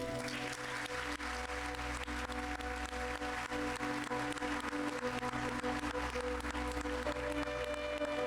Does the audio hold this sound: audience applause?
yes